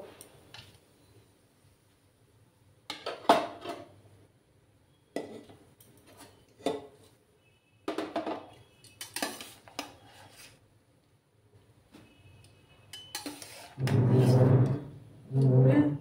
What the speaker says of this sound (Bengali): সয়াবিনগুলোকে আমি ঠান্ডা জলে ভালো করে ধুয়ে নেব।